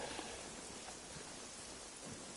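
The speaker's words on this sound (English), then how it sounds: "It's got weather on it, look, it rains." Rain falls in the video game Generation Zero as a steady, even hiss of dense drops, soft and continuous with no other sounds standing out.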